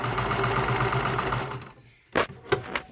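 A White FashionAire 2360 sewing machine runs steadily while stitching a zigzag, a continuous close mechanical whir that stops abruptly, followed by a few short clicks and knocks.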